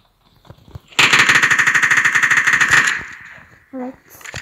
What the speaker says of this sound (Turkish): Adam bana sıkıyor.